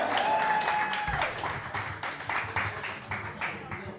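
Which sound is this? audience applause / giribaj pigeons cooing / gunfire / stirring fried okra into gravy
audience applause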